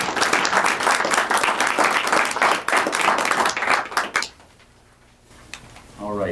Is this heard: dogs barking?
no